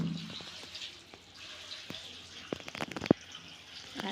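Water is poured by hand at a home where turmeric is being boiled, giving soft splashes and trickles with a brief louder splash near the end over quiet background.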